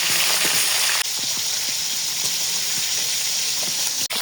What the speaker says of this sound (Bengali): এই যে মাংসটা না আমি একটু ভেজে নেবো